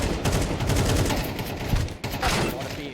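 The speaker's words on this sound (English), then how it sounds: "A lot of bullets being exchanged." Dense, continuous gunfire rattles through a Counter-Strike-style competitive shooter round, shots overlapping in a loud, sustained barrage with a brief dip near the end; faint voices may sit underneath.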